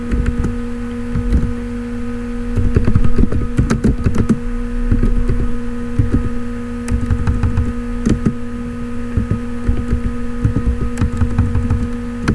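C++ code being typed on a computer keyboard, irregular bursts of close, clattery keystrokes over a steady electrical hum, with pauses between flurries.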